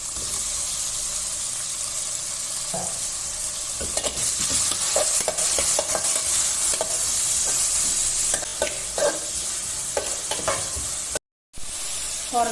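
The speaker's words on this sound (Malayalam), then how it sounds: "തക്കാളി ചെറുതാക്കി മുറിച്ചതാണ് ഇതിടുന്നുണ്ട്" Chopped tomato, ginger and slit green chilli with onions frying in a pan for a jackfruit curry, sizzling steadily close up while a spoon stirs and scrapes now and then, with a brief gap of silence near the end.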